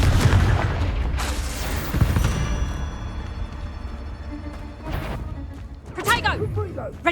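A Confringo fire spell booms in a Hogwarts Legacy battle amid dense rumbling combat noise, with several heavy impacts and a whooshing swell near the end; voices can be heard amid the action.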